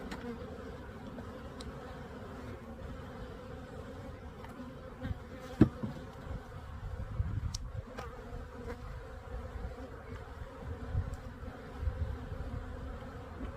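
Honeybees in an open hive hum and buzz steadily, a dense colony drone with individual bees zipping close by now and then, alongside faint handling knocks.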